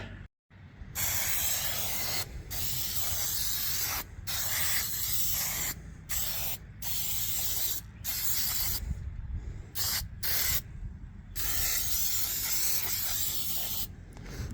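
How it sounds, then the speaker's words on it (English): An aerosol can hisses out cooking spray in a series of short bursts separated by brief pauses, close up and fairly steady. "if you spray it with cooking spray, stuff doesn't stick as much"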